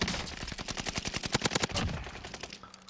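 Rapid bursts of automatic gunfire in a battle royale video game, a dense string of close, loud shots that tapers off into quieter game ambience.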